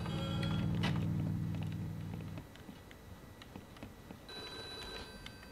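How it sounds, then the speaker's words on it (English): A telephone rings in The Godfather video game, a loud close electric bell burst followed by quieter clicks and mechanical handling sounds. "Finally, the phone."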